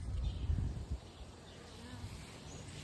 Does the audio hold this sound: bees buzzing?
yes